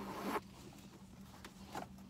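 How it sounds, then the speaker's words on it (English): The zipper on an authentic Louis Vuitton bag zips shut with a quick close rasp at the start, then a softer second pull of the zipper follows in a quiet room. "let's zip this up and show you what this looks like"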